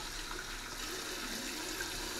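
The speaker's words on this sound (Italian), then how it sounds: "Se aggiungo un po' d'acqua" Water pouring steadily into a ceramic bowl from Puglia, a continuous close splashing and trickling wash that holds at an even level throughout, with no voices.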